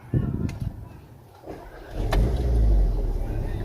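A 2014 Volkswagen Golf 7 R engine cranks and catches, swelling into a low, steady rumble close by after a few brief muffled sounds and a snippet of speech.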